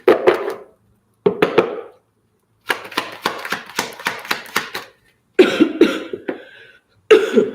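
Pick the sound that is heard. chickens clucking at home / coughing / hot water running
coughing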